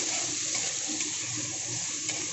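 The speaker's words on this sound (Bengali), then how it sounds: "এখন এখানে দিয়ে দেবো সবজি। সবজিটাকে গ্যাসটাকে কমিয়ে রেখে সুন্দর করে একটু ভেজে নেব।" Mixed vegetables frying gently in a pan over lowered gas for a plain pulao: a soft, even, continuous sizzle with faint crackles, close and fairly quiet.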